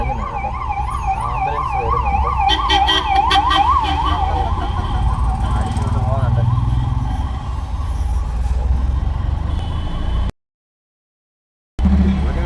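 An ambulance siren wails loudly and close by on the road, its rising and falling tone riding over steady traffic rumble before fading into road noise. A brief dead silence interrupts near the end.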